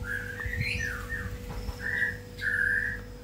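A white-rumped shama (murai batu), a songbird about three moults old, gives several bright whistled calls and phrases over a steady low hum, with short pauses between the notes.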